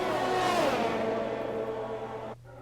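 Formula 1 cars in the F1 2021 video game race and overtake, a Ferrari and an AlphaTauri among them; engines scream close by, one pitch sweeping as a car passes, then cut off near the end.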